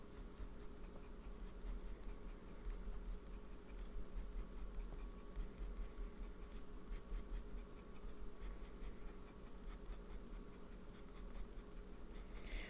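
A fountain pen with a medium nib writes on paper, a soft, continuous close-up scratching with a faint buzzy texture that runs throughout.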